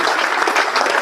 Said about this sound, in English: how about a round of applause for Sylvia?